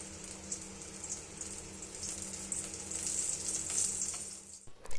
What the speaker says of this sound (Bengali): কড়াইয়ে তেল গরম করে আমরা দেব শুকনো লঙ্কা এবং তেজপাতা।